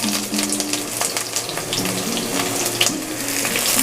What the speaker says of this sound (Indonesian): Saya tumis dulu ini bawang merah yang sudah diiris tipis.